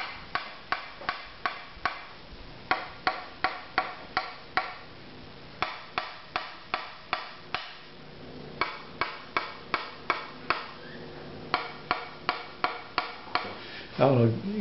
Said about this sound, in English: I'll try to tap with the same amount of force each time.